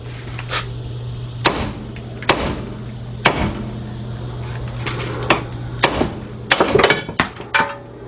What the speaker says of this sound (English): So you take your nice hammer, and what you're going to do is hit right there